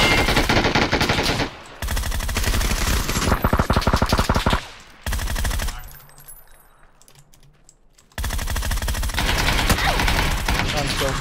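Rapid automatic gunfire in the video game PUBG, long sustained bursts of dense, loud shots broken by brief pauses and a quieter stretch in the middle before firing resumes, close and harsh.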